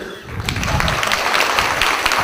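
Audience clapping at a Hindi poetry recital at a poets' gathering in Dhamtari, a dense steady wash of applause building slightly after a quieter start.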